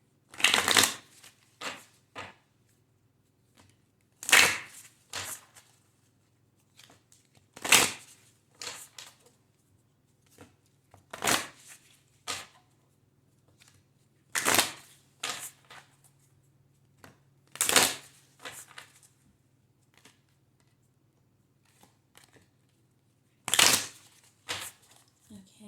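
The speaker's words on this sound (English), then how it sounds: "We are starting off with the messages from your animal spirit guides oracle deck." Animal spirit guides oracle cards are shuffled in repeated bursts of riffling and flicking, about nine clear bouts separated by short pauses, close and fairly loud over a low steady hum.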